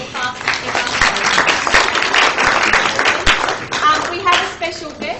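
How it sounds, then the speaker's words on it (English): An audience at a club management course session claps for Daniel before a lunch break, a dense, steady spell of applause held at even loudness, with voices mixed into the crowd noise. "Do you want to give him a little clap?"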